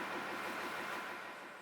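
A boat engine running during sea trials, a steady broadband drone that fades slightly at the end, heard alone with no voices.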